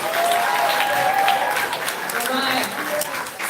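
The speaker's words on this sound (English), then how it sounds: "So we can have another round of applause" Audience applause at a spoken word event, a crowd clapping steadily throughout with a few voices and a faint whistle mixed in.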